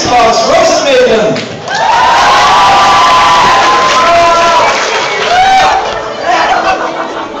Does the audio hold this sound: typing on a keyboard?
no